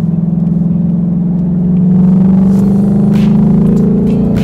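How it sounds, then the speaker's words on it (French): A 2019 Ford Mustang V8 engine revs up close and loud, a steady deep rumble that swells in intensity partway through and holds at a higher, throaty pitch without any talk. "le bruit du V8 comme ça, c'est magnifique"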